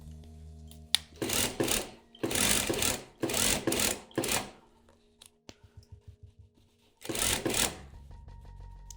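A sewing machine stitches a tote bag seam in several quick motorized bursts of rapid needle chatter, separated by pauses filled with soft clicks and handling of the fabric, and no one speaks.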